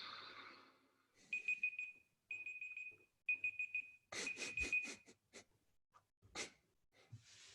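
An egg timer rings in repeated short bursts of a shrill metallic tone separated by brief gaps, followed by rustling and handling noises at a low level.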